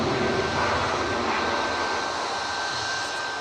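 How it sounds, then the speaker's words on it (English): A Boeing 737 Max 8 arriving from Berlin touches down at Manchester Airport, its engines giving a loud, steady roar with a thin high whine, slowly easing off toward the end. "just touching down, coming in from Berlin, EIFW, some Max 8 flight 195"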